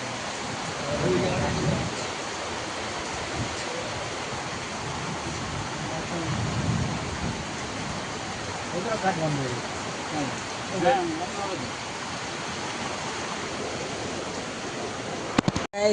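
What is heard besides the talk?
heavy rain pouring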